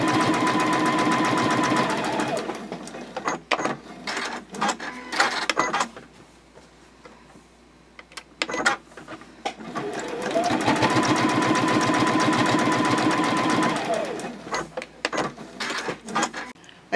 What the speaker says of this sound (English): the last thing that I want to do here is baste the side edges together. I'll just baste about an eighth of an inch away from the edge.